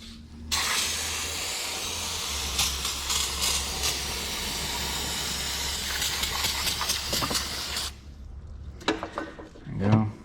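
Cleaner sprays around the valve cover of a Toyota Camry engine in one sustained, close hiss lasting about seven seconds, with slight pulses. It is followed by a short clatter and a brief voice.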